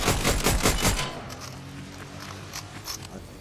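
Rapid bursts of automatic gunfire in Fortnite rattle loudly for about a second, then fade into quieter distant shots and scattered noise.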